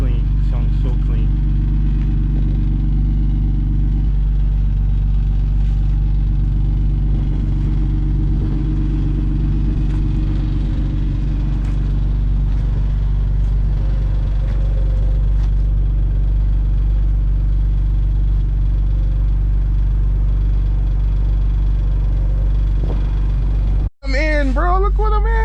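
An Infiniti G37 with a built VQ engine idles steadily up close, a loud, low, even rumble with slight shifts in pitch throughout, talk heard over it and a sharp click near the end.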